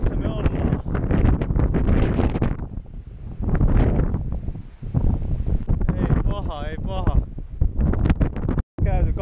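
Steady roaring wind buffets the microphone throughout on Grande-Terre, Guadeloupe, loud and gusty and strengthening, with a person talking over it.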